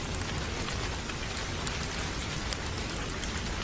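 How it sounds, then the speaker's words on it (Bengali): Steady rain pouring outdoors, a dense even hiss of falling drops throughout, fairly near and unbroken, with no voices. "প্রায় অনেক দিন পর আজ বৃষ্টি হওয়ায় বেশ স্বস্তি পাওয়া গেল"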